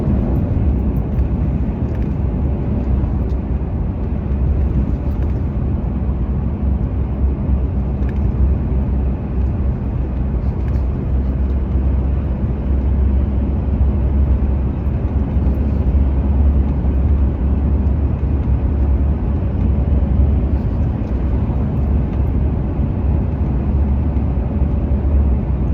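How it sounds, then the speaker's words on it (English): On the road to Wanaka, heavy traffic fills the drive with a continuous low road drone and engine rumble that stays steady throughout, with no talk. "Lots of big traffic."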